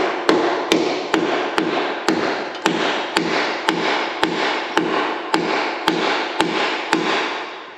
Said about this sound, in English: he likes to use a nail hammer